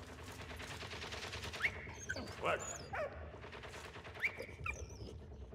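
Dog barking and whimpering in the First World War video game Valiant Hearts, a few sharp yelps and whines over a dense rumble of battle noise and gunfire.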